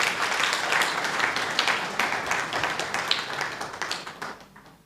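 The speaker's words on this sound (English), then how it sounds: "please clap for General Yoweri Kaguta Museveni." An assembly at a committee meeting in Uganda's Lango sub-region claps loudly in a dense burst. The sharp hand claps are close and steady, then thin out and fade toward the end.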